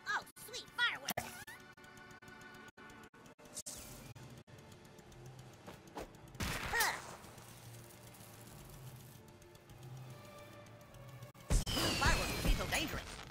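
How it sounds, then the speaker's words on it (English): Fireworks go off in South Park: The Fractured But Whole, with two loud crackling, rain-like bursts, one midway and one near the end, over steady game music and effects. "Oh, sweet fireworks!"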